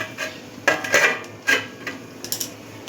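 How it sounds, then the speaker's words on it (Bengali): Metal clatter of a lid placed onto a cooking pot of coconut and bori curry, a few sharp clinks and knocks spaced apart, close and moderately quiet. "আমি ঢাকাটা দিয়ে দেব।"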